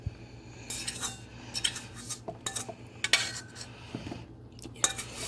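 A spoon clinks and scrapes against a dish while mixing pumpkin pie filling made with butter, giving repeated sharp metallic taps in an irregular rhythm over a low steady hum, with no speech.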